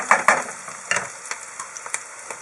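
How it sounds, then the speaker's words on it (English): Sausage pieces drop into a hot pan with onions, sizzling and frying close by with a series of sharp clatters and stirring scrapes over a steady hiss. "is we're going to throw in some sausage."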